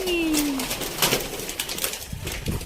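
Pigeons coo softly and repeatedly at their nest on a farm, low throaty calls layered under a busy background with people talking.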